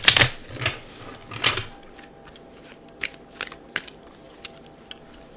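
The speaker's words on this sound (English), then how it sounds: "I'm going to do you a clean shuffle." Tarot cards being given a clean shuffle, with a burst of riffling and slaps at the start, another at about one and a half seconds, then scattered soft card taps and flicks close by, no talking.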